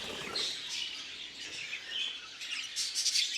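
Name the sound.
budgerigar chirping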